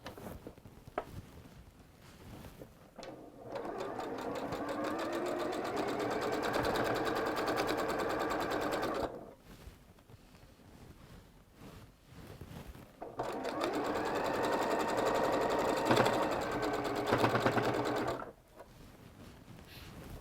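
A sewing machine runs in two long, fast stitching bursts of several seconds each, loud and close, separated by quieter pauses with faint handling noises.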